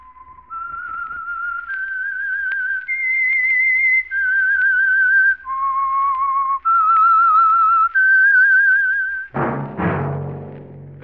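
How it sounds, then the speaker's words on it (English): A lone whistled theme melody for a radio mystery program, a clear, close series of sustained notes stepping up and down, ending with a brief burst of orchestral or ambient sound. "That whistle is your signal for the Signal Oil Program, The Whistler."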